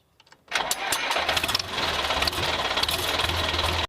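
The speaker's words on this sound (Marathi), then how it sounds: "It's a tractor." A tractor engine starts and settles into a loud, steady rumbling run, heard alone from start to finish.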